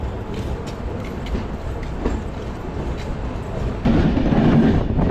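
A train rolls into Coimbatore North railway station in the early morning, a steady loud rumble of wheels and carriage noise that swells and roughens near the end as it slows.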